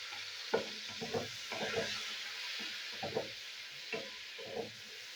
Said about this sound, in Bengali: উচ্ছেটা একটু ভালো করে ভাজতে হবে।